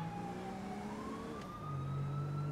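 Emergency vehicle siren in the video game GTA 5, a steady wailing tone that slowly rises in pitch and holds, heard clearly without talk.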